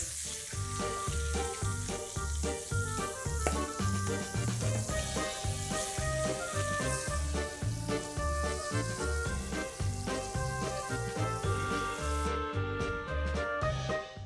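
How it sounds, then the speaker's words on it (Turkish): Floured pieces of liver fry in oil in a pan, giving a dense, continuous sizzle and crackle throughout with no voices. "Şimdi hemen buradan doğruca yağın içerisine yavaşça atıyoruz."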